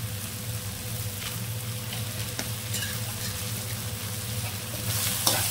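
Spices sizzle and fry steadily in hot oil while being sautéed for a manathakkali (black nightshade berry) tamarind curry, with a faint stir and clink near the end; no talk.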